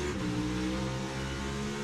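NASCAR Cup Series race cars roaring around the ROVAL road course, a loud, continuous engine drone with steady harmonic whine and slight pitch shifts as cars battle for position; no voices.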